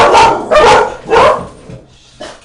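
Two dogs bark angrily, four sharp, loud close-up barks in an uneven rhythm, the last one shorter and quieter.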